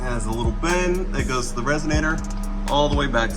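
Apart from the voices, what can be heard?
No everyday noise stands out behind the speech.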